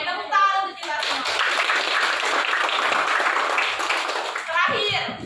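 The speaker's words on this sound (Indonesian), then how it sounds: "tepuk tangan untuk kita semua" Children in a classroom break into applause that lasts several seconds, a dense, steady wash of many clapping hands, with children's and adult voices speaking just before and after.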